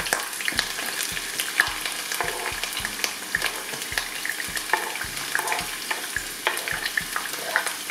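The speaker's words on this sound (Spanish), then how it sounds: "vamos a sofreír en aceite de oliva toda esta verdura, a fuego suave" Chopped vegetables sauté gently in olive oil over low heat, a soft continuous sizzle with frequent sharp taps and scrapes of a utensil stirring the pan.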